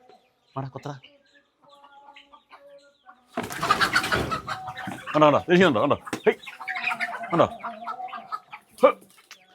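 Fowl cluck and squawk in bursts amid a scuffle of flapping as they peck at each other in a fight, with a voice speaking briefly over the birds.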